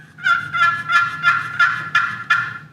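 A Roberts brother turkey call imitates a wild turkey gobble, with a run of about seven rapid, rattling bursts that come loud and close with no talking over them.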